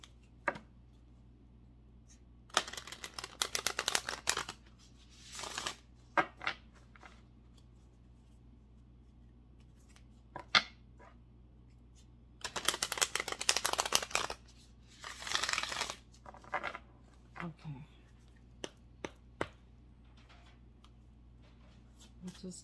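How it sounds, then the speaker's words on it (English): Moonology oracle cards being shuffled by hand in several bursts of crisp riffling and flicking, with quiet pauses between them and a voice speaking softly at times. "Okay, just two more shuffles."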